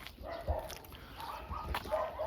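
Several puppies at a breeder's yip and bark in short bursts, somewhat distant, over a low background rumble.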